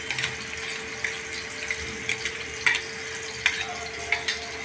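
Spice paste of coriander leaves, ginger, garlic, cumin and salt sizzles gently in hot oil in a pan, with soft crackles and a few louder pops and stirring scrapes over a steady low hiss, with no talking.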